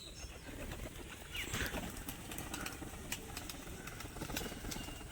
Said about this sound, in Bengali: এটা কিন্তু আমারই দেওয়া পায়রা, সুন্দর একটা কালারের পায়রা